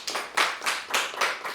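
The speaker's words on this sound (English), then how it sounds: "We gotta clap that up, y'all." Clapping at a community talk, about six sharp claps in a steady rhythm, close and distinct.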